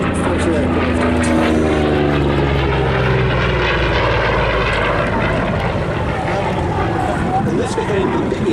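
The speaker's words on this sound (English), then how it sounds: "2800 double wasp engine was the most powerful and largest capacity power of any fighter aircraft" Deep throbbing roar of a Vought F4U Corsair fighter's Pratt & Whitney R-2800 Double Wasp radial engine, loud and continuous with a shifting pitch as the aircraft passes, with a voice talking over it.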